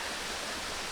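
Waterfall at Shope Creek Recreation Area near Asheville, North Carolina, giving a steady, broad rushing roar that stays constant and fairly close, with no voices.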